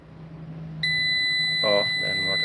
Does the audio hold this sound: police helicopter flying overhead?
no